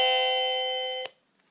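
A wireless doorbell receiver set to chime-only mode rings one sustained bright electronic tone that holds steady for about a second, then cuts off sharply into near silence.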